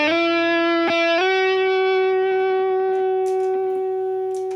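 A sustained electric guitar note on a PRS with the humbucker pickup switched to full rings out with a thick, full tone after a couple of quick picked changes, slowly fading.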